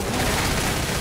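Gunfire from the zombie shooter video game Left 4 Dead, a dense continuous burst of shots and booms filling the whole second at steady loudness.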